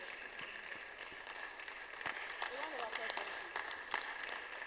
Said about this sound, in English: Please, let's clap for him as he comes up.